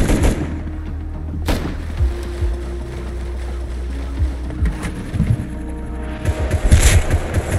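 Gunshots in Rust Console Edition, a few sharp isolated cracks spread out over a low rumbling ambient background, with a heavier burst of shots near the end.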